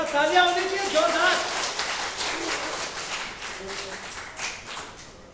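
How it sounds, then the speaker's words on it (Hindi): Clapping from an audience at a Hindi comic poetry gathering, a crackling patter that starts under a speaking voice and carries on alone as the voice drops away. "बस तालियां होनी चाहिए जोरदार।"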